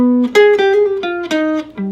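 Jazz guitar plays a minor 2-5-1 pathway, a short run of clean plucked notes and chords in a steady, close phrase with no other sounds.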